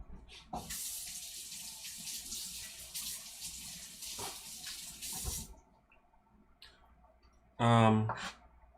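Green onions rinsed under a running kitchen tap, water hissing and splashing for several seconds with a few clicks, then stopping; a person talks briefly near the end.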